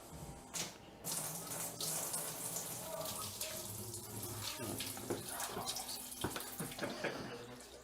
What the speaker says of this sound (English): All you do is go through, dump it in each toilet, in the drains, anything that would have held water.